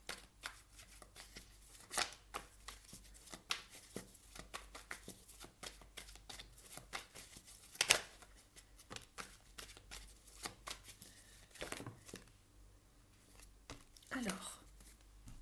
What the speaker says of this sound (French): Je vais aller rajouter ici quelques cartes.